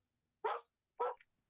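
A three-year-old male dog gives two short, sharp barks about half a second apart, close and fairly loud against near silence.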